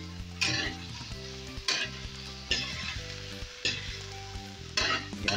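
Red chili and aromatics sauté in a pan for spicy burong gourami, a steady close sizzle broken by regular bursts of stirring scrapes about once a second.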